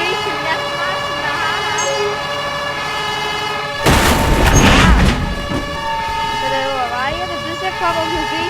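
Stolen fire truck in the Emergency video game sounding its siren, a steady wailing tone with rising and falling sweeps, interrupted midway by a brief loud noisy burst before the siren carries on.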